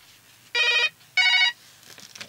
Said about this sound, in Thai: อันนี้โทรศัพท์ข้างนอกมั้ง